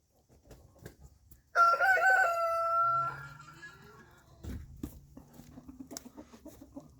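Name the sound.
chickens crowing and clucking on a farm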